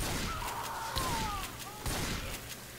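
Video game gunfire in Left 4 Dead 2 as one player shoots a teammate, a few sharp bursts cutting through busy in-game noise, close and moderately loud, with voices mixed in.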